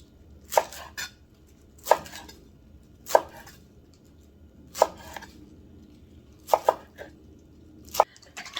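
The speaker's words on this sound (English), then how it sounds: "I'm going to be taking the stems off of the kale and running my knife through it to make strips" A knife chops through destemmed kale on a cutting board to make strips, with sharp, distinct thuds spaced about a second apart in a quiet kitchen.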